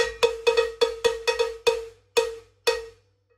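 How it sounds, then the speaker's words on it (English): A cowbell struck with a drumstick gives about ten bright, ringing metallic hits in an uneven rhythm, each one decaying quickly before the next, close and alone with no talking. "the higher you are on the cowbell, the higher the pitch sounds you get."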